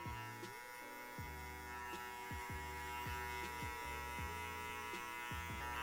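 Lever-adjustable electric hair clippers buzz with a steady close-up hum while cutting a classic combover fade, with short repeated strokes marking each pass through the hair.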